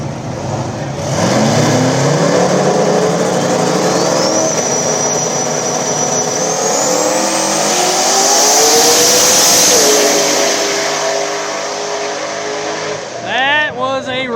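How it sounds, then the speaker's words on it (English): Turbocharged Chevrolet S10 and Mazda RX-7 drag racing on a small-tire no-prep strip, engines roaring loudly and steadily at high revs through the run, with a rising turbo whine and an announcer talking over it. "next pair, Silverback S10 turbocharged, taking on Austin in the RX-7"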